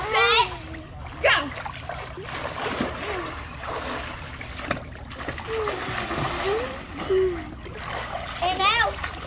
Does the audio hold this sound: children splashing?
yes